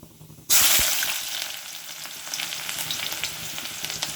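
Chopped onions hitting hot oil with mustard seeds, a sudden loud burst of sizzling half a second in that settles into steady, close frying with spitting crackles, no talking.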